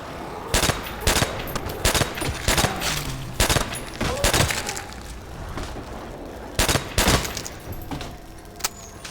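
Rapid bursts of gunfire from the video game Nazi Zombies, loud, sharp reports arriving in irregular clusters across the whole stretch, with no talk over them.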